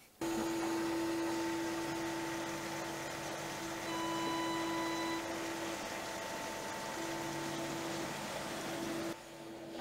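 A heavy CNC machine driven by servo motors with a Z assembly weighing 42 kilograms cuts steadily, a loud continuous whine with a strong tonal hum that runs nearly ten seconds before briefly dropping near the end.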